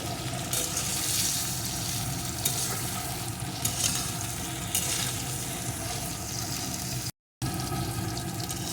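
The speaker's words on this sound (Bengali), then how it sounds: "এখন এগুলোকে একটু ভেজে নেবো" Pointed gourd (potol) pieces frying with salt in a pan, with a steady, close, hissing sizzle running throughout and occasional stirring scrapes, broken by a brief gap near the end.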